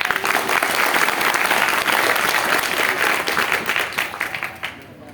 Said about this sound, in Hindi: आप लोगों की तालियां कम काहे हो जाती हैं? बजाओ भाई जोरदार।